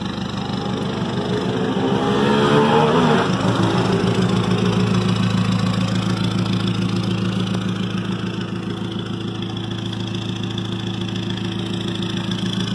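A loud Toyota Hilux pickup engine idles steadily for the whole stretch, a deep, rough, continuous rumble that swells slightly early on and then holds, with no voices over it.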